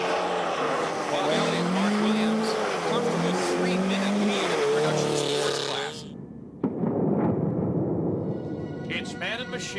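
A Mitsubishi rally car races on a gravel stage at the Baie des Chaleurs rally in 1994. The engine revs and shifts under loud commentary, then cuts to a sharper burst of the car passing.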